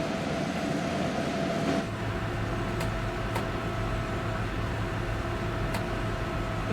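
Locomotive running in Train Sim World 6, a steady loud rumbling drone with a low engine hum, occasional faint clicks, and no talking over it.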